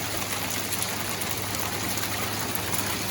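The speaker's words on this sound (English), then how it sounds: "This is the biggest hail I've ever seen in my 40 plus years here." Large hailstones fall in a California hail storm, a dense, steady patter of many impacts on surfaces that sounds like heavy rain, continuous and moderately loud with no talk.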